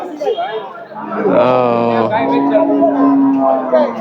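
A cow at a busy village cattle market gives a loud, close, drawn-out moo while people talk nearby.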